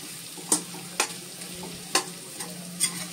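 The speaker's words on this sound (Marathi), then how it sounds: "ही वाटलेली डाळ त्याच्यावर घालायचे आणि व्यवस्थित मिक्स करून घ्यायचे" Ground dal is stirred and mixed in a pan, a low steady sizzle with five evenly spaced sharp scrapes of a spoon against the pan, close and without voices.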